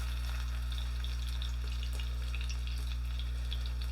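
Okonomiyaki batter fries in a full-sized pan with a steady, close sizzle and light crackle, under a constant low hum, with no talking.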